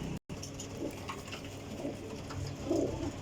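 Pigeons of a show breed coo softly in a loft, low murmuring calls rising and falling under a steady rustling background, fairly quiet and nearby, with no voices.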